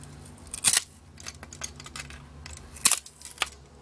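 Snips from cutters trimming the gold edge contacts off high-grade circuit boards, salvaged from a traffic light switch box, come as a few sharp close cuts spread among quieter handling clicks.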